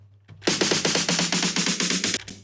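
A bass house snare build-up with groove applied: rapid snare hits in a slightly uneven, swung pattern, loud and bright for about two seconds before stopping.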